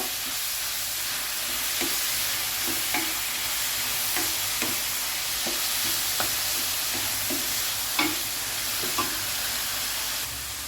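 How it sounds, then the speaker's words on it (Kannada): Roughly chopped tomatoes frying in a pan for a restaurant-style chicken gravy, with a continuous sizzle and hiss broken by occasional soft clicks of stirring, close and steady with no voices. "ಈಗ ನಾನು 2 ಟೊಮೆಟೊ ಕಟ್ ಮಾಡಿದ್ದೇನೆ ರಫ್ಲಿ, ಅದನ್ನು ಇದಕ್ಕೆ ಹಾಕ್ತೇನೆ. ಇದನ್ನು 1 ನಿಮಿಷ ಫ್ರೈ ಮಾಡುವ."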